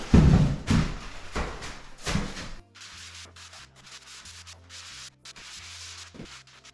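A few light passes of sanding over a plaster skim coat on drywall in a passive house under construction, with rough scraping strokes for a couple of seconds followed by quieter sustained background tones.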